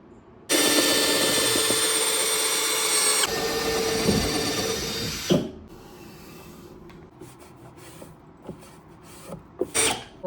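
A power drill bores a hole through a bed headboard in one loud, steady whine of about five seconds that shifts pitch partway through. It stops with a few clunks, followed by quieter handling knocks and rustles.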